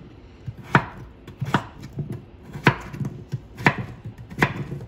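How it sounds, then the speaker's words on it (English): A knife dices peeled potatoes into cubes on a cutting board for cabbage soup, giving about five or six sharp, distinct chops in an uneven rhythm, close and clear with no talking. "Just dice them up."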